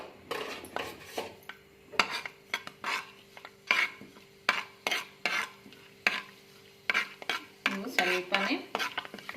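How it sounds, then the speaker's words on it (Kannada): Whole spices such as bay leaf, peppercorns, cardamom and cumin are stirred in hot oil in a pan, giving a rhythmic series of close scraping and clinking strokes over a faint sizzle. "ಪಲಾವ್ ಎಲೆ, 2 ಕಾಳು ಮೆಣಸು, ಏಲಕ್ಕಿ, ಹಾಗೆ ಜೀರಿಗೆ, ಅದನ್ನು ಇವಾಗ ಎಣ್ಣೆಯಲ್ಲಿ ಹಾಕ್ಕೊಂಡು ಫ್ರೈ ಮಾಡ್ಕೋಬೇಕು"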